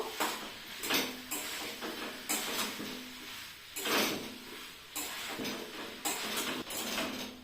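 A spoon scrapes and stirs spiced kabuli chickpea masala with a little sugar in a pan, giving repeated close, rough strokes and clinks in an uneven rhythm with no voices.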